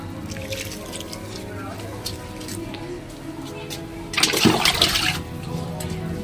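Water poured from a bucket onto spinach planted in a home kitchen garden made from a broken sink, a wet splashing gush rising for about a second near the end, heard under steady background noise and speech.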